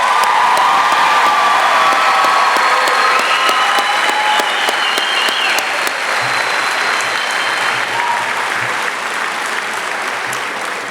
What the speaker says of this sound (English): I think the class of 2019 has earned another round of applause